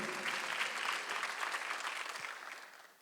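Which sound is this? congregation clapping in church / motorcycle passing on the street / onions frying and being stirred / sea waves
congregation clapping in church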